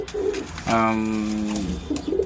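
Domestic pigeons kept for breeding coo close by, with one long, steady, drawn-out call in the middle and softer, shorter murmurs before and after it.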